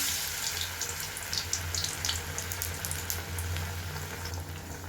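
Gram flour batter-coated bread fries in hot oil, a close, continuous crackling sizzle with a low steady hum beneath it.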